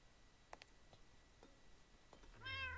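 A single Minecraft cat meow comes near the end, clear and fairly close, after a stretch of faint ticks and clicks over a low hum.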